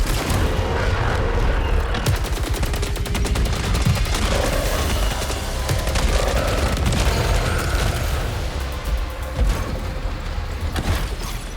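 Rapid gunfire in the sci-fi shooter Saros, shots fired at a circular target to open a gate, a loud, continuous barrage layered with booms and mechanical game sounds.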